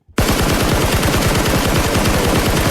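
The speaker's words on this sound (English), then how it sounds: "Give me some gunshots, Mike, man." Rapid automatic gunfire bursts out after a brief silence and keeps going as a loud, dense machine-gun rattle with steady repeated shots, sound effects cueing the start of a podcast episode.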